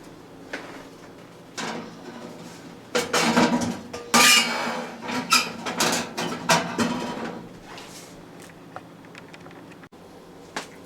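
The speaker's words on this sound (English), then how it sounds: "just lift it up, and your pan comes out for your chips" A metal chip pan is lifted out of a small Little Chief smoker through its access port, producing a cluster of close clanks and scraping metal rattles, then quieter scattered knocks.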